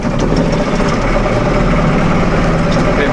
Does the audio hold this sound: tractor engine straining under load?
yes